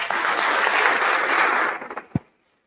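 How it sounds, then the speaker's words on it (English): Audience applause for a speaker at a history reading festival in a library, a dense steady clapping that fades out with a few last claps before silence. "how about another round of applause for our speaker?"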